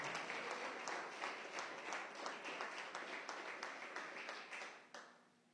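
Congregation clapping at a church service, a steady rhythmic applause with regular beats throughout, moderately loud and unaccompanied by talk, fading at the end.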